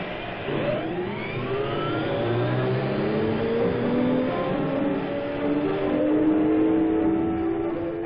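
Engines at the start of the 1957 Indianapolis 500 fire up and rev, rising pitches sweeping upward and layering into a loud, sustained roar of several race cars at once, with no talk.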